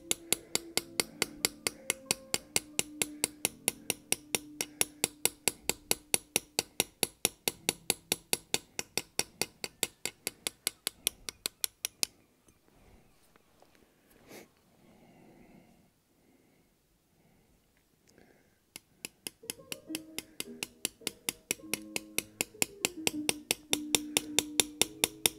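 Hammer strikes drive a chisel carving a low relief design in metal, a fast, steady run of sharp close taps that pauses midway for a quiet stretch before the rhythmic tapping resumes.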